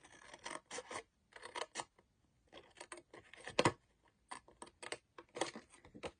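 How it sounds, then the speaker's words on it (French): Scissors snip through cardboard along a drawn line in short bursts of close, dry cutting and rasping, separated by brief pauses, without any speech. "Et avec mon ciseau, je vais venir couper sur ma ligne."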